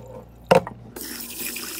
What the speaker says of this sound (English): Pour the water out of the pot, but make sure you keep the rice in.